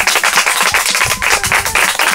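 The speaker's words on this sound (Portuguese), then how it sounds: "E vamos aplaudir." An audience claps loudly and briskly at a celebratory event, a short burst of close, energetic hand claps with a slightly pulsing rhythm.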